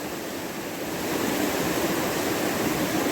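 Rushing creek water, a dense, continuous roar close by that grows slightly louder partway through, with no voices.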